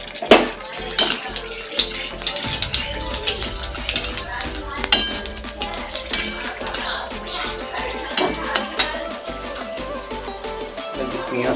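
Cumin seeds and two dried red chillies sizzling in hot oil for a chana masala, with a bright crackling hiss and some clinks of utensils against the pan, while someone talks over it.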